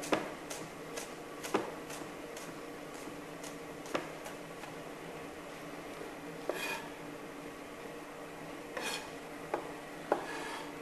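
A kitchen knife slices carrots, celery and onions into thin paysanne pieces on a board, producing sparse, irregular close taps and light scraping clicks at a quiet level, with no talking.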